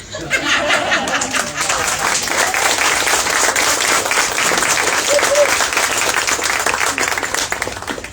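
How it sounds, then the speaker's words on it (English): Loud, sustained audience applause at a Brisbane community poetry event, many hands clapping steadily, with scattered laughter and chatter mixed in throughout. "They get a big clap."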